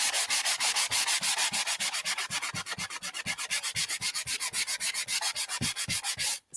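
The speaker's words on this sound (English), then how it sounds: "what I'm going to do is I'm going to sand off" Hand sanding rubs off material in quick, evenly spaced back-and-forth strokes, a close, rhythmic scratchy rasp that runs steadily throughout with no speech.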